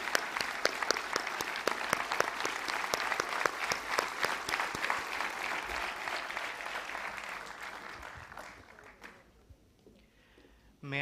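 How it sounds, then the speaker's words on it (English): A room of attendees at a corporate leadership event claps for Lieutenant General B.T. Pandit, PVSM VRC, a dense, steady round of applause lasting most of the span before tapering off and falling quiet near the end. "Please join me in giving a huge round of applause to Lieutenant General B.T."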